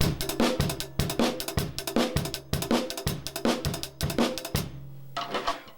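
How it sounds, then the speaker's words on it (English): A drum beat with a syncopated hi-hat pattern riding over kick and snare, repeating steadily before trailing off into a few lighter hits. "you can play a kind of 1 and a 2 and a 3 and a 4 and a rhythm on the hi-hat"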